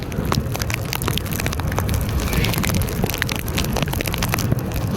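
Rain falls steadily while a car drives through a city during the monsoon, a dense, continuous wash of patter with low road and engine rumble underneath and no voices.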